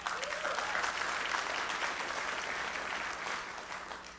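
Sustained applause from a large audience at a BNI business conference in Tampa, a dense, even wash of clapping that holds steady and fades slightly toward the end.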